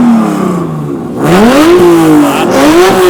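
A Honda NSX engine revs hard at a supercar show sound-off, with rising and falling throttle blips climbing in pitch, loud and close, after a brief quieter idle at the start.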